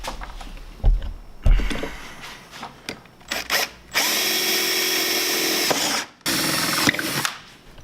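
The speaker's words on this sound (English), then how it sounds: "you use your bumper as a template and just drill a hole in the plastic where that bolt needs to go through" A power drill bores a 5/16 hole through snowmobile plastic on a Ski-Doo Summit, using a front bumper as a template. Several short bursts come first, then a steady loud whine that cuts out briefly and resumes.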